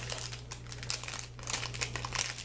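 A small plastic packaging bag holding sunglasses crinkles close up in quick irregular bursts, soft but crisp, with a faint steady hum beneath and no speech.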